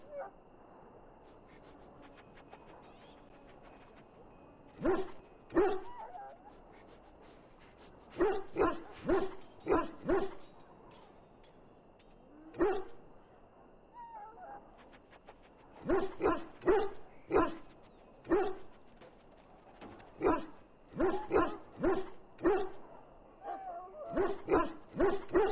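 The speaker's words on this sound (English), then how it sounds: "I can hear the hound barking in the background." A hound in the video game Dragon Age: Origins barks in short clustered bursts, two to four sharp barks at a time with quiet gaps between, fairly close and clear over a faint background.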